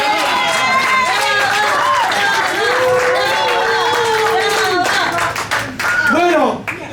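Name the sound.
audience applause for drag performer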